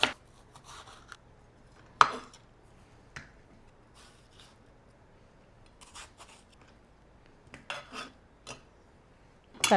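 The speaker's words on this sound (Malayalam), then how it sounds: "അപ്പോൾ വെളുത്തുള്ളിയും ഇഞ്ചിയും ടൊമാറ്റോയും കൂടെ കട്ട് ചെയ്ത് വെച്ച്" Sparse knife chops on a cutting board as garlic, ginger and tomato are cut for a salmon curry, a few isolated sharp taps scattered through quiet room tone, no talk.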